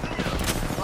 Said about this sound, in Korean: 멍청이들이 날 쏘고 있다